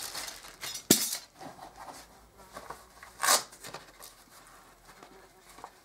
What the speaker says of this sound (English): that small bag there, knife, fork, spoon, and spork